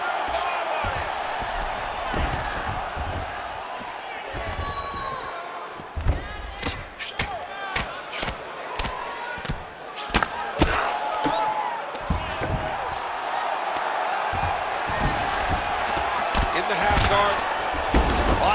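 A crowd roars and cheers at a video game fight between Khabib Nurmagomedov and Yuri Boyka, a continuous dense din with thuds and slams, under a commentator's voice.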